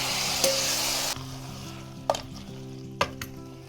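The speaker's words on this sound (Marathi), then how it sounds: "फोडणीचे मटण आपण याच्यामध्ये आता ॲड करतो" Mutton hits hot spiced tempering in a pot over a wood-fired village stove, giving a loud, steady sizzle with a few sharp clatters of stirring and no talk.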